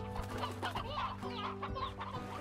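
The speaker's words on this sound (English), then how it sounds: "This is different kinds of chickens" Chickens in the Slime Rancher video game cluck in a busy, overlapping flock, with steady close clucks and a few sharper calls throughout.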